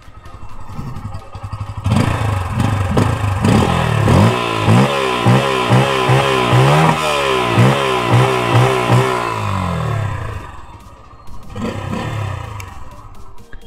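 A 2024 Bajaj Pulsar N160 motorcycle with an underbelly exhaust, recorded close up. The engine is revved repeatedly in rising and falling bursts over a rumbling idle, then settles back to a quieter idle.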